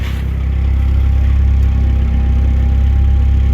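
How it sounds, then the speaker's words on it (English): A turbocharged Mitsubishi Eclipse with a 420a engine idles steadily at close range, a low even rumble with a faint clattery edge and no revving. "It idles pretty well."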